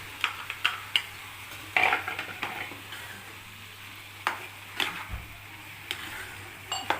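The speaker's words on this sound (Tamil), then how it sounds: "சிக்கன் நல்லா வதக்கிட்டுருக்கிறேன்" Chicken pieces sautéing in a pan with ginger garlic paste, giving a soft, steady sizzle broken by irregular scraping and stirring clicks of a utensil against the pan, close and fairly quiet with no talking.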